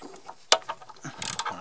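A 13 mm wrench ratchets on an anti-roll bar bolt of a BMW E36. The pawl gives short, quiet, close clicks, a lone one and then a quick cluster, with no talk.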